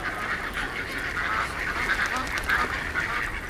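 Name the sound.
flock of ducks in a bean and corn field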